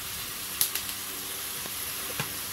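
Spice paste with ground tomato, turmeric and salt frying in a pan for a Bengali fish curry, giving a faint, steady hiss with a few light clicks of a spoon against the pan.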